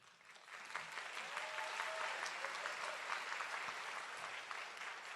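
At a spring graduation ceremony, applause from a crowd builds and holds for several seconds after a teaching award winner is introduced. It is heard from a distance, quiet and diffuse, as a soft, steady patter.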